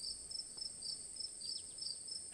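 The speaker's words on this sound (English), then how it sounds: "Crickets singing quietly in the sleepy little neighborhood" Crickets chirp softly and steadily in a sleepy neighborhood at night in the game Scarlet Hollow, a continuous high pulsing trill with no voices.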